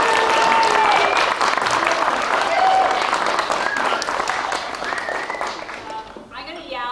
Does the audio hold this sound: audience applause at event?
yes